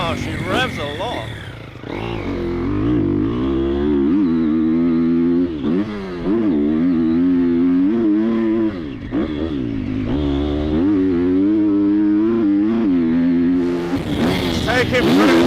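A Triumph TF250 X motorcycle revs hard and climbs through the gears on a track lap. The engine note rises and drops with each shift, loud and close, and a rider-mounted mic also catches wind rush.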